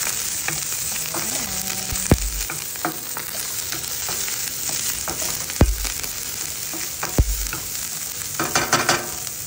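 Chicken adobo pinauga fries in a pan with steady, fairly loud sizzling and spitting oil, broken by a few sharp utensil knocks against the pan as it gets stirred.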